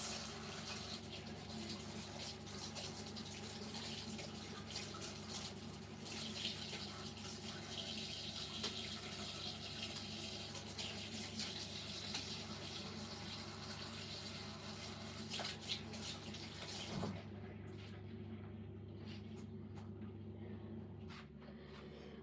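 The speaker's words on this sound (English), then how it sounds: "I'm washing my hands." Tap water runs steadily into a sink while hands are washed in a home kitchen, a continuous close rushing that shifts and quiets near the end.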